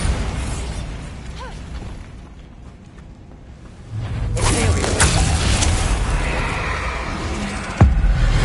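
A Bombarda blasting spell in Hogwarts Legacy erupts midway through a quiet stretch as a sudden broadband whoosh and blast, then a sustained roaring rumble, ending with a sharp crack.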